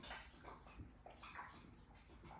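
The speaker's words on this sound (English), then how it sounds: "my dog just started chugging water as soon as I started talking" A dog laps water in quick, rhythmic splashy bursts, faint and close, with no voices over it.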